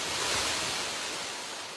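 Rushing mountain torrent and waterfalls in a rocky, green cirque at the end of the Chartreuse massif, a dense, steady broadband roar of moving water, loud and continuous with no voices.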